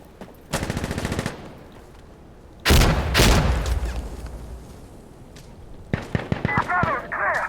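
Close gunfire and a heavy grenade blast in the video game Insurgency Sandstorm: a burst of rapid automatic fire, then a loud booming explosion that rumbles and fades, followed by more scattered shots, with shouted voices in the mix.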